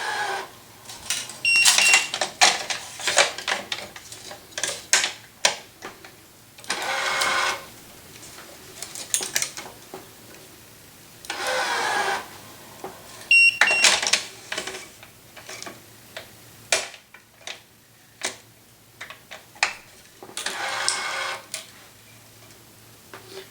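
A racket stringing machine pulls string tension during two-piece stringing, giving bursts of rapid mechanical ticking and ratcheting that start and stop in irregular spells with quiet gaps between them, close by and alone.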